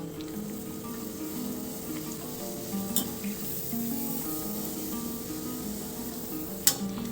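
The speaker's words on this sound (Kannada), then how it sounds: "ಇವಾಗ ಇದನ್ನು ಹಪ್ಪಳನ ಬಿಸಿಯಾದ ಎಣ್ಣೆಯಲ್ಲಿ ಹಾಕ್ತಾಯಿದ್ದೀನಿ." Jackfruit seed papad fries in hot oil, a steady, moderately quiet sizzle and crackle throughout with a couple of brief sharp pops.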